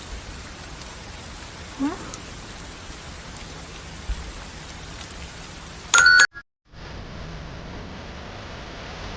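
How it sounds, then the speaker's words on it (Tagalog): Rain falls steadily in an animated scene, a constant hiss of downpour with a few brief louder bursts and a sudden cutout near the end before the rain resumes; a voice briefly exclaims. "Ano ba yan? Umulan pa."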